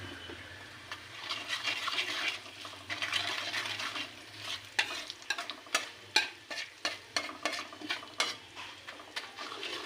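Garlic and a spoonful of sugar fry in a pan, sizzling steadily while a utensil stirs and scrapes in quickening bursts toward the end, close and fairly loud with no voices.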